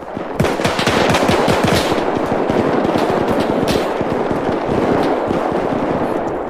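Rapid automatic gunfire in Arma 3 during a World War II battle for Berlin, dense loud bursts of shots rattling almost without pause, close and sustained throughout.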